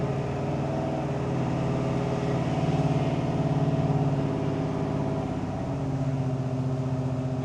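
A 1968 Chevrolet C10 pickup with a 496ci stroker V8 runs with a loud, steady low rumble that swells slightly in the middle. The engine sounds close and continuous, with no talk.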